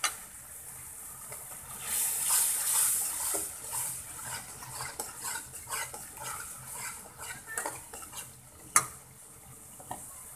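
Chili, turmeric and cumin powder are stir-fried in a pan, giving a soft sizzle under a run of scraping and clinking strokes of a spatula, close and fairly quiet, with one sharper clank near the end.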